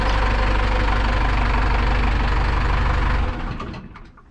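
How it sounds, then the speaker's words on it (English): A 4-cylinder Cummins diesel idles in a Sweptline truck, loud and close with a steady low rumble and knocking clatter for about three seconds before the sound drops away and fades. "Yeah, it's a noisy diesel"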